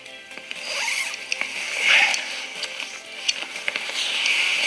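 A zipper pulled closed in a few quick rasping strokes, close and fairly clear, with small clicks and rustles between them.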